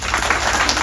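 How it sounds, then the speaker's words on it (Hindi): A burst of loud crowd clapping at a college career-guidance talk, dense and continuous for a brief moment. "जोरदार ताली मिलेगी ना"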